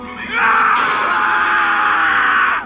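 A man lets out a loud, sustained scream that rises sharply and holds steady for over two seconds, close and alone.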